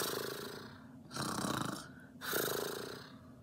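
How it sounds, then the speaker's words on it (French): An old bear snores long and loud, two drawn-out rasping snores rising and falling in slow rhythm, close and alone with no talk. "Seul un long ronflement sonore lui répond."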